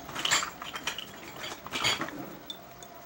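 Soap mixture of oil and whitener stirred by hand in a container, giving repeated light clinks and scrapes of utensil against the vessel in uneven bursts, close and fairly quiet.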